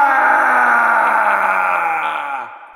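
A loud, sustained groaning scream closing a fight scene with a game cartridge, a single drawn-out cry that holds steady then trails off at the end.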